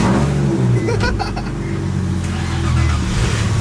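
A Lexus engine idles with a steady low rumble close by while jump-starting a dead Nissan 350Z, with a brief rev-like swell and some clatter partway through.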